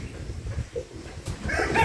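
A hen clucks in a farmyard poultry setting, short calls rising over a low, steady background rumble and growing louder near the end.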